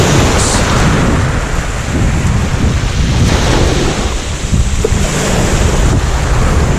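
Sea waves wash onto the shore at St Osyth Beach, a steady loud roar of surf mixed with wind buffeting the microphone, continuous and close with no talk.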